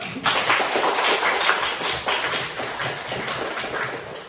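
Students clap together in a classroom at the end of a lesson, a steady dense burst of many hands sustained for several seconds at moderate level with no talking.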